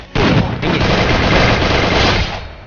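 Gunfire in the video game Free Fire from a two-shot shotgun, a loud close burst of dense, rapid blasts that sustains for about two seconds before tailing off.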